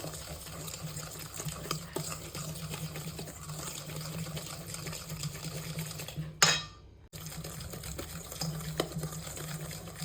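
Ghee and powdered sugar are stirred together in a steel bowl for coconut cookies, producing steady close scraping and clinking of a spoon against metal, broken by a brief gap, without talk.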